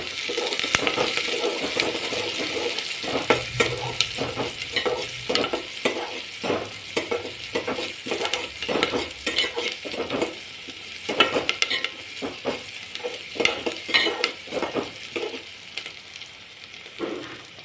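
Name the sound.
onion and chili frying in oil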